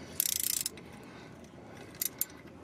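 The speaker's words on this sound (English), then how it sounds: "All right, we're going to loosen the drain" A wrench works loose the transmission drain on a Cub Cadet GT2544 tractor, giving a quick burst of close ratcheting clicks followed by a few faint metallic taps, quiet and without talk.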